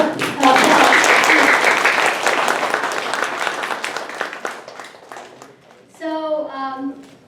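Audience applause after a keynote at a data analytics panel event, starting strong and thinning gradually over several seconds before a voice begins speaking near the end.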